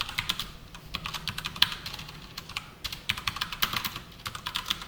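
Rapid clacking of a computer keyboard while JavaScript code is typed, fairly quiet and close, in uneven bursts of keystrokes with brief pauses and no talking.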